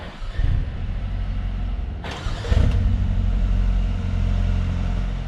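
A 2019 Mercedes A35 AMG starts up in normal mode with closed exhaust valves: a brief starter crank, a quick catch and rev, then a subdued, steady idle close by.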